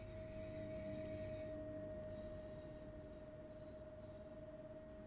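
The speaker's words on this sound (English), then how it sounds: "So there's a train. That's the train we just pathed." A train rolls past in the railway simulator Simrail, giving a steady, low rumble with a sustained tonal whine that stays even and moderately distant, with no one talking.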